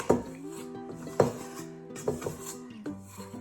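Oiled cinnamon bun dough is scraped out of a bowl onto a counter for kneading, with several clinking, resonant knocks of the bowl against the surface, close and clear.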